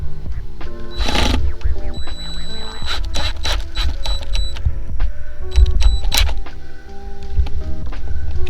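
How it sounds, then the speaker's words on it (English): A screw being driven through a Murphy bed bracket in a Rockwood MiniLite camper, with ratcheting drill whirs and clicks, short bursts over a low hum and scattered clattering. "I think I'm going to put a screw through here on the opposite side"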